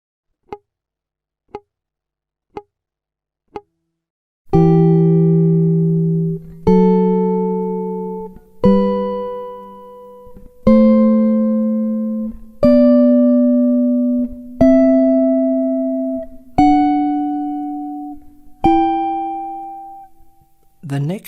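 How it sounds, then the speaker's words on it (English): Jazz guitar sounding chord root notes paired with their tenths: four soft ticks, then eight sustained two-note dyads, each plucked cleanly, ringing, and stepping gradually upward, close and clear. "Let's have a listen to the root note and the 1/10 for each of these chords"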